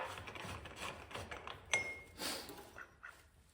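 Tightening the rear brake hub assembly on a 1970 GMC truck, a few close metallic ratcheting clicks and clinks from the wrench, with one sharp bright clink partway through.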